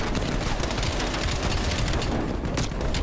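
Dense, continuous automatic gunfire from blind fire in the Call of Duty Black Ops Cold War campaign, loud and relentless with overlapping booming shots and no pauses.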